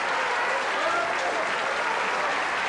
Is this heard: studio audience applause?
yes